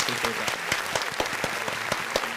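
Audience applause greets a rapper arriving on a podcast set, steady dense clapping with a few sharp louder claps standing out and a voice speaking briefly underneath.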